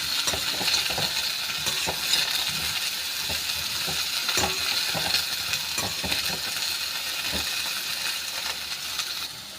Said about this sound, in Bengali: এবারে বেগুনটাও একটু উলট পালট করে নিচ্ছি।